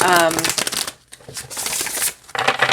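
Thin cardstock oracle cards being shuffled up close, with quick riffling bursts broken by brief pauses and a voice talking over part of it.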